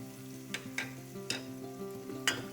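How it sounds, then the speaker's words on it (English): Tomato chutney with salt and sugar cooks in a pan, softly sizzling while a spoon stirs with a few quick scrapes, quiet and close, without any voices. "Stir it well and cook for 2 minutes until everything blends well."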